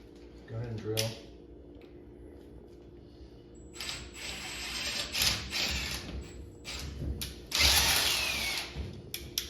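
Power drill boring out a rivet on an Xtend+Climb ladder foot, the motor whining in several bursts of varying length, with talking in between.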